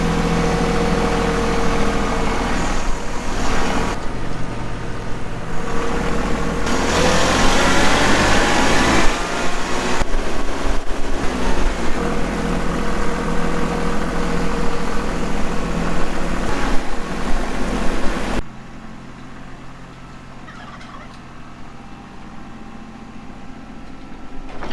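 A four-wheeler ATV engine drones steadily, loud and close, while following a hay wagon, then drops abruptly to a quieter rumble for the last few seconds.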